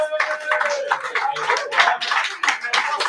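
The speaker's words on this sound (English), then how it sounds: "one more round of applause" A small group claps steadily for two competitors at a live-streamed esports and wrestling community event, dense close hand claps in irregular bursts with a voice talking underneath.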